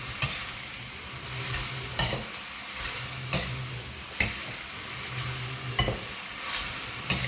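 Bean sprouts with minced pork and green onions sizzle steadily in a hot pan while a utensil scrapes and tosses them in regular strokes every second or so.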